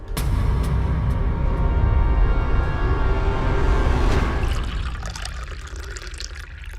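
Filtered water poured from a container, a steady rushing stream for a few seconds that thins and tapers off toward the end, close and moderately loud, with no talk.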